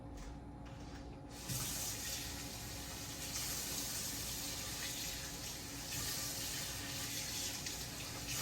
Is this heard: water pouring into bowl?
yes